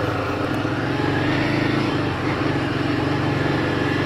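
A Royal Enfield Himalayan 450 adventure motorcycle rides an off-road trail, a steady close throbbing single-cylinder engine beat with wind noise and rough low rumble throughout, no talking.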